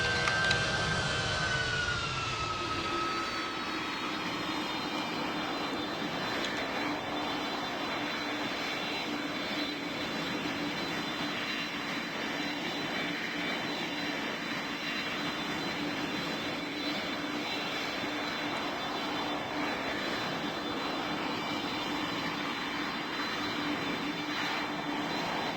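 Airplane engines in the Roblox flight game PTFS during a landing, a steady loud engine roar with a high whine that falls away early, running alone and unbroken throughout.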